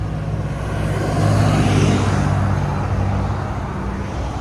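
A 2006 Ford Mustang GT with a 4.6L V8 and Valvetronic Designs mufflers rumbles nearby, a deep steady exhaust drone that swells slightly midway and holds on.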